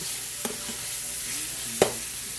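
Frozen bell pepper, celery and onion, microwaved to soften, stir-frying in a pan with steady sizzling hiss and two brief utensil clinks against the pan, no talking.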